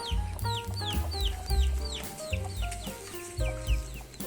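Several hens cluck in short repeated bursts, with more clucks overlapping through the whole stretch, close by and fairly loud.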